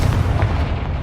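A Confringo spell blast in Hogwarts Legacy, a loud, dense, booming explosion filling the whole short moment with rumbling low-end energy, no voices.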